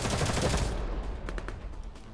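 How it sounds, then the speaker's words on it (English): Gunfire from a firefight inside a pitch-black tunnel in Girl's Frontline 2, muffled and distant at first, then a few sharper isolated shots breaking through a low rumbling backdrop. "The faint sound of gunfire comes from the hole."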